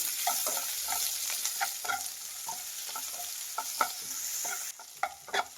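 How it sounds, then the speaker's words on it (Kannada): Two medium onions fry in a pan for a dhaba-style paneer masala gravy, giving a steady bright sizzle with repeated clinks and scrapes of a stirring spoon. The sound stays close and even with no talking. "2 ಈರುಳ್ಳಿ ಹಾಕಿದ್ದೀನಿ. ಇದನ್ನು ಫ್ರೈ ಮಾಡಿ."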